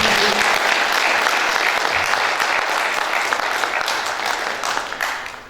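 An audience applauds steadily at a poet's 70th-birthday jubilee in Baku, a loud, dense clatter of many hands that holds even and then fades out at the end.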